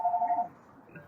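An office phone rings with a short warbling electronic tone lasting under half a second, followed by a faint quieter chirp, moderately loud with no voices over it.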